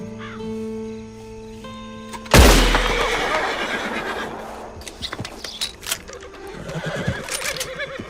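A horse in the Red Dead Online video game whinnies loudly and close after a quiet stretch of low ambient tones, followed by scattered rustling and movement sounds with a second, fainter whinny near the end.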